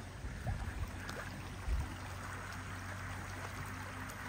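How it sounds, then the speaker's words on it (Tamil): Water runs along a PAP irrigation canal beside a coconut grove near Palladam–Udumalai road, making a continuous, gentle rushing murmur with a few soft splashes and no voices. "பாருங்க, பிஏபி வாய்க்காலில் தண்ணி வந்துட்டு இருக்குதுங்க."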